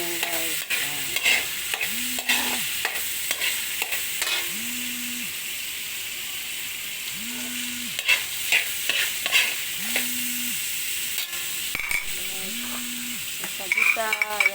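Garlic and onion sautéing in a pan for stir-fried bean sprouts, a steady close sizzle with repeated scraping stirs of a spatula and occasional clinks throughout.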